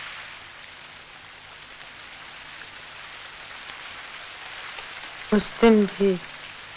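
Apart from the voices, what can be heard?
heavy rain falling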